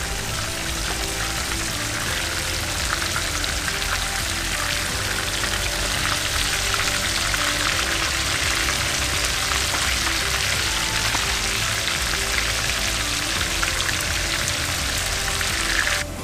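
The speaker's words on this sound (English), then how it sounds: "now I have the panko fish on, and I'm flipping them, and they got that nice golden brown on them" Panko-breaded snook fillets frying golden brown in a pan, giving a dense, even hiss of sizzling oil that holds steady and fairly loud throughout, with no one talking.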